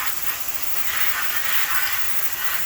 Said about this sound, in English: I'm gonna have to get back in there maybe with some more degreaser